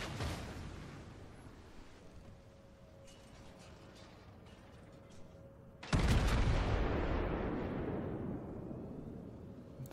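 The battleship Montana fires its main guns in World of Warships, opening with a blast, then a booming salvo that rolls into a long, fading rumble over steady background ambience.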